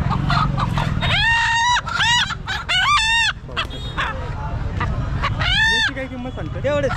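Roosters crow again and again among clucking chickens at a large livestock market for goats, sheep and poultry in Shirur (Talegaon Dhamdhere). Crowd babble and talk fill the background.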